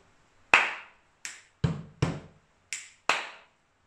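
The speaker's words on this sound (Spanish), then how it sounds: "Comienza con un aplauso, chasquido, golpe en la mesa, golpe en la mesa, chasquido y aplauso." Body percussion sequence performed close up: a clap, a finger snap, two dull thumps on a table, then another snap and a final clap, six distinct hits in an even rhythm with silence between.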